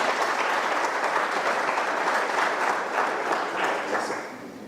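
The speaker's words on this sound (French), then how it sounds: "de les applaudir très très fort." An audience at an official ceremony for a 2015 conference at École Polytechnique applauds loudly and steadily, a dense wash of clapping that fades slightly at the end.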